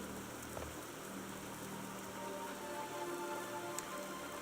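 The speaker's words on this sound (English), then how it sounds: "Sure do need rain here in the Barrens." Steady rain pours down in the Barrens of World of Warcraft, a dense, even hiss of drops hitting the ground that fills the whole stretch at constant loudness, with no voices over it.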